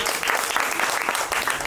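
A short burst of steady crowd applause at a poetry recital, fairly close and even throughout.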